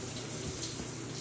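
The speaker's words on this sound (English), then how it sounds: "We have a nice waterfall shower." A waterfall shower running in a rental cabin bathroom in Gatlinburg, Tennessee, a continuous even hiss of falling water, close and steady, with no voices.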